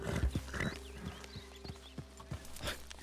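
Horse hooves clip-clop at a steady trot in Red Dead Redemption 2, a Western open-world game, with repeated close hoofbeats running through the whole stretch and a brief whinny-like call near the start.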